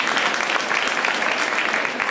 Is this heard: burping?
no